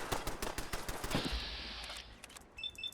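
Automated turrets open fire during a full-on attack in the Fallout 4 video game: rapid, loud bursts of machine-gun shots, then a sustained hissing blast and scattered quieter shots.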